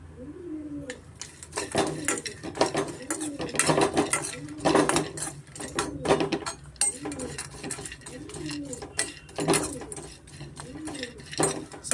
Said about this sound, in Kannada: ಗೋಡಂಬಿ ಮತ್ತು ಬಾದಾಮಿ ಸ್ವಲ್ಪ ಪಿಸ್ತಾ ಇಷ್ಟು ಸ್ವಲ್ಪ ಬಿಸಿ ಮಾಡ್ಕೊತೀನಿ